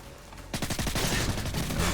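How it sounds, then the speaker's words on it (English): Rapid gunfire in the video game Modern Warfare 2 Spec Ops, a burst of quick shots cracking in fast succession after a short quiet start. "So I just run up and I shoot him."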